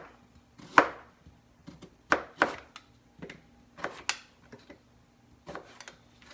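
A knife quarters vegetables such as carrots, parsnips and potatoes on a cutting board, producing a series of sharp, close wooden chops at an irregular pace, some in quick pairs, with quiet pauses between.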